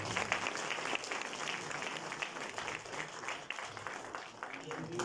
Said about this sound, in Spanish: les pido un aplauso acá para el doctor